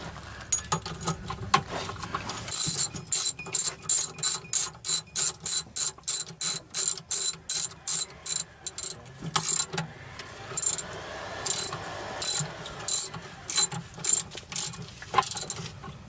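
A hand ratchet clicks in quick, evenly spaced bursts while tightening bolts during field reassembly of a QuikSpray concrete pump, loud and close with short pauses between strokes.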